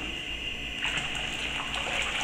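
A litre of cold tap water poured into a detergent mixture, a close, steady gushing splash that swells slightly partway through and continues without talk.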